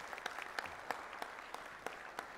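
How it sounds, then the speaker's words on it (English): Faint, distant audience applause at a banking user meeting after a talk: soft, steady clapping from a crowd with occasional louder individual claps, lasting a couple of seconds. "can we give him a big round of applause?"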